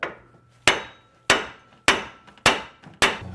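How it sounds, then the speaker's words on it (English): Five loud, evenly spaced metallic hammer blows strike the spindle of a Tahoe to free the upper ball joint, each sharp hit ringing out and fading before the next. "we've got to hit the spindle right here to free up this ball joint"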